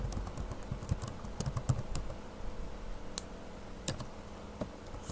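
Typing on a computer keyboard while entering text into a Corel Draw church flyer design, heard as quiet, close, irregular key taps in short bursts with small pauses.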